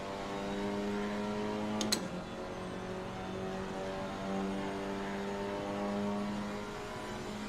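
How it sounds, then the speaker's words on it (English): GT4 race car engine in Assetto Corsa Competizione, a steady droning tone holding through a corner as the throttle rolls on and traction control eases off, fairly quiet and even, with a brief click early on. "that roll on the throttle, hearing the traction control just ease off"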